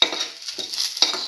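Red chillies hiss and sizzle in a hot pan while being stir-fried, with a bright steady frying crackle that swells in short waves as they are tossed, close and fairly loud.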